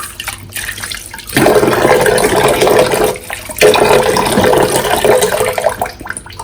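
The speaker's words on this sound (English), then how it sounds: "Just to get the soap off, you can just rinse it with clean water on both sides." Running tap water pours over a glass mirror being rinsed of soap in two loud bursts, close and splashy, separated by a brief quieter pause.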